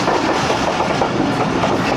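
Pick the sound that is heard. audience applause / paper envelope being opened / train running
train running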